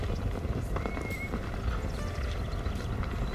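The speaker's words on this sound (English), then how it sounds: "The Mustangs that you see out here come from a variety of places." Mustang horses at a rescue ranch, hooves clip-clopping steadily with occasional neighs and whinnies, over a low rumble of outdoor wind noise without talk.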